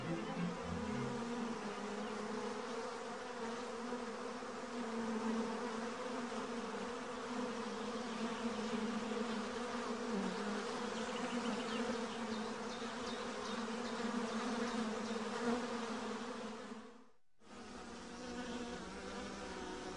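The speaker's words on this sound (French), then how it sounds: "les abeilles resserrent les rangs pour se réchauffer un peu et se protéger entre elles" A honeybee colony clustering together for warmth gives a steady, dense, moderately faint hum throughout, with a brief dip near the end, and nobody speaks.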